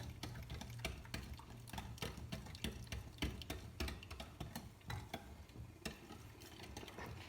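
A spoon stirs magnolia pudding cream in a pot, giving faint, repeated scraping and clicking strokes in an irregular rhythm that continue throughout without any talk.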